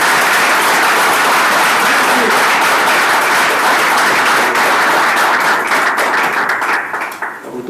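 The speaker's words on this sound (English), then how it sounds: "Let's give him a big round of applause." A festival workshop audience breaks into loud, sustained applause that holds steady for several seconds before thinning out near the end, with no talk over it.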